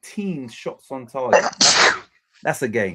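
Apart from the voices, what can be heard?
sneeze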